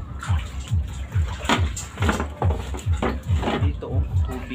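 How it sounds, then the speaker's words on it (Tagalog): Floodwater sloshes and splashes inside a house in rhythmic surges, as if someone wades through it, with a voice speaking faintly in the background. "Dito oh, tubig."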